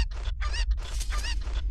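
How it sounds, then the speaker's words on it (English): Chickens in Zelda: Skyward Sword HD cluck and squawk in a quick, busy run of loud, close calls that barely pause, with no talking. "Got too many chickens"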